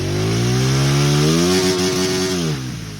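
A motorcycle runs in fifth gear while standing in a stream. The engine gives a steady, loud, close buzzing drone that rises slightly, then the pitch and volume drop as the rider gently eases off and shifts down.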